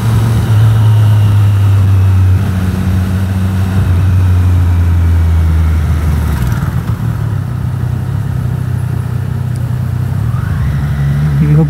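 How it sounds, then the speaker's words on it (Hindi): A motorcycle fitted with a loud aftermarket exhaust rumbles steadily close by, its deep, continuous engine drone rising and falling slightly as it revs, with no talking over it. "कौन पगला इतना लाउड एग्जॉस्ट लेके घूम रहा है"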